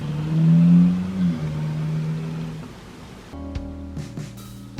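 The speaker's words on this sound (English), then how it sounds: "this guy who just started up his car right in front of me" A car starts up close by and its engine drones steadily, surging louder early on before settling into a lower hum as it pulls away, with no voices.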